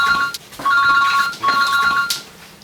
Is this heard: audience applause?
no